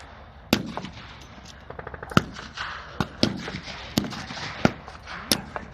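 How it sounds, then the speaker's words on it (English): Gunfire at a WW2 re-enactment battle as airborne troops open fire on a farm, sharp single shots cracking at irregular intervals with a brief rapid burst, moderately distant over a low outdoor murmur. "The airborne forces open fire."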